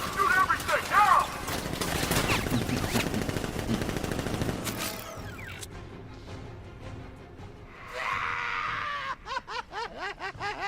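Bursts of automated sentry-gun fire from Batman: Arkham Knight, rapid rattling volleys mixed with game sounds and shouts, dropping out midway, then returning as sparse sharp shots near the end.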